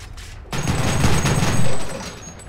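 Sherman tanks trading cannon fire in a War Thunder Ground Forces simulation battle, Battle of the Ruhr event: a sudden loud, close burst of gunfire kicks in after a brief quiet and rumbles on in a dense, booming volley.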